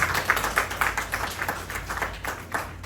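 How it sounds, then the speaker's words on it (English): An audience gives a round of applause at an NGO newsletter launch, a small group's clapping with a loose rhythm of distinct hand claps at moderate level over a steady low hum. "Can we give a round of applause for this initiative, please?"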